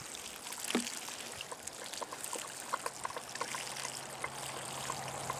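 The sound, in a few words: pouring compost tea to water plants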